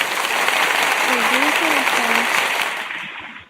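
An audience applauds the announcement of Kevin Stefanski as the new Atlanta Falcons head coach, a broad, steady wash of clapping with a voice talking over it before it fades out.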